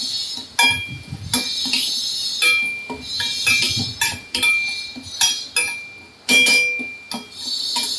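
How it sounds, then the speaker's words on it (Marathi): Sugar is stirred in a pan over a low flame to caramelize it for ginger tea, producing repeated irregular clinks and scrapes of the utensil against metal, close and fairly crisp. "शुगर तिला आता आपण असं छान हलवायचं आहे सारखं हलवत राहायचं आहे"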